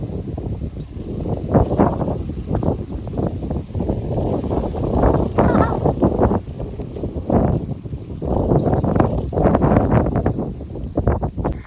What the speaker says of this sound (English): Look at the sunflowers blowing in the wind.